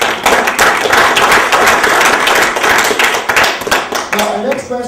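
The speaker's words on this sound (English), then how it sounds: "Let's give them a round of applause." Audience applause for election debate candidates on a local radio broadcast, a dense burst of many hands clapping that thins out toward the end, with voices mixed in.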